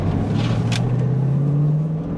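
An old, modified Ford Mustang engine drones steadily at close range as it brakes and downshifts into third around a corner, a low rumbling tone with pitch rising gradually, with no talk.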